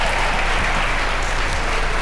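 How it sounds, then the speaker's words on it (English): Crowd at a table tennis team championship final breaks into sustained applause and cheering, a dense, steady roar of clapping that fills the whole stretch without pause. "And the crowd goes crazy on table two"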